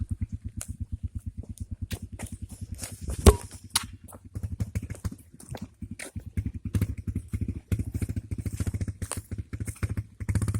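A dirt bike engine idling and revving nearby, a steady rapid pulsing putter that runs the whole time with one sharp clank partway through and slight rises in pitch.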